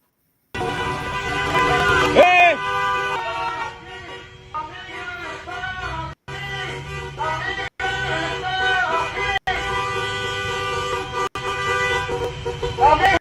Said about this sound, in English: So they're honking at ICE